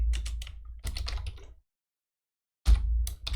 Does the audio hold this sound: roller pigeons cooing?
no